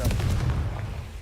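Confringo blast spell cast in Hogwarts Legacy, a booming fiery burst that lands loud and close at the start and then rumbles away over about a second, with no other sound on top.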